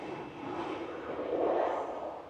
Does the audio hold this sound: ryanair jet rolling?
yes